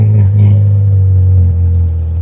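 A Porsche Carrera GT fitted with a Graham Rahal Performance exhaust, heard from outside as the engine settles into a loud, deep, rumbling idle that stays steady and close.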